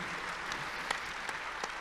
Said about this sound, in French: on vous applaudit pour ce que vous avez vécu.